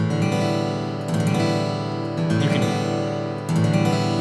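An acoustic guitar strummed with the flat face of the pick, with a few steady strummed chords ringing close and full, the strokes repeating in even groups.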